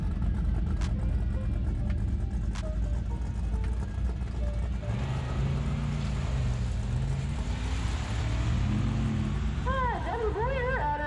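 A 2004 Pontiac GTO at a drag race, with a missed gear shift on the run: a steady, loud engine roar under a continuous announcer's voice, with rising revving tones near the end.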